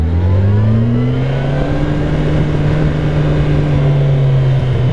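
A car accelerates through downtown Atlanta streets, with the engine note climbing steadily in pitch as it pulls away. Loud and close throughout, with no voices.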